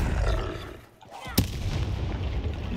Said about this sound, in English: Bomb in the head. Another bomb in the head.